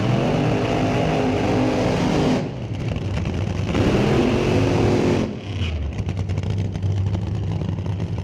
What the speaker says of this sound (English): Burnouts, check.